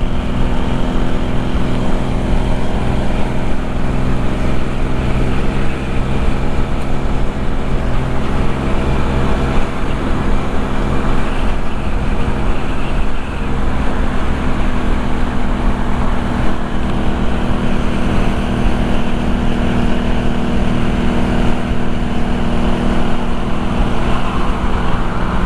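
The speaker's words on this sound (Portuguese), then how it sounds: "vou deixar vocês aí com o som das motos" Loud, steady engine drone with deep rumbling harmonics, continuous throughout, no talking, like several motorcycle engines idling close by, including a Honda CB 450.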